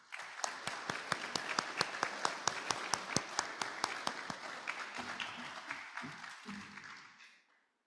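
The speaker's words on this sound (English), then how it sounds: "So let's applaud them, and let's applaud Margaret back here." An audience at a Rotary Club meeting applauds veterans being honored on Veterans Day, a steady patter of many hands clapping for several seconds before tapering off and fading out near the end.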